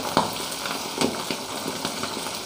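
Herbs crackling in hot oil for a homemade herbal oil keep up a steady close sizzle, with a few soft knocks and stirs punctuating it and no talk.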